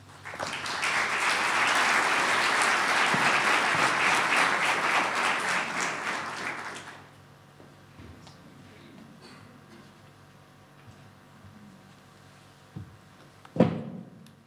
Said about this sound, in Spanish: el doctor Roberto Vega, a quien también pido recibamos con un aplauso